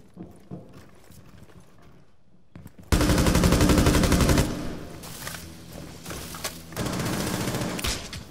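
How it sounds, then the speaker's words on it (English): Gunfire in a tactical shooter video game: a quiet stretch of faint clicks and footsteps, then a sudden loud burst of rapid automatic fire, a pause, and another sustained burst. "Even on Jaeger's gun, you should have your recoil."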